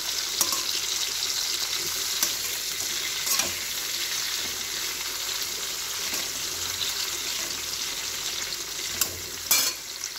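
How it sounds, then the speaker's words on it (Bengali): Cauliflower florets frying in a pot while being browned for khichuri, giving a steady close sizzle with occasional stirring scrapes and a few brief clinks, no talking. "কপিগুলো একটু ভাজি ভালো করে, লাল লাল করে ভাজি"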